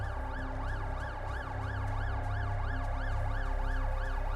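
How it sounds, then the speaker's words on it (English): An ambulance siren in The Alters sounds a rapid, continuous yelp, loud and steady over a low rumbling background, with no voices. "Ambulance."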